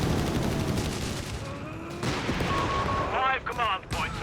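Battle fire in Company of Heroes 3 crackles under steady commentary, with bursts of gunfire and an anti-tank grenade blast mixed into the game noise.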